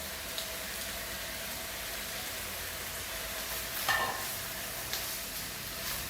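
Chopped mushrooms and browning meat sizzle steadily in a pan for bolognese sauce, a constant crackling hiss with a brief stirring scrape midway, close and even, no talking.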